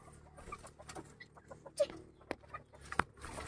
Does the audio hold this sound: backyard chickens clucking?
yes